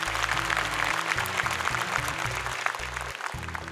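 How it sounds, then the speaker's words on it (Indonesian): Studio audience applause on an Indonesian Quran memorisation contest show, a steady wash of clapping lasting several seconds over a low tonal music bed. "Boleh tepuk tangan untuk mereka semuanya"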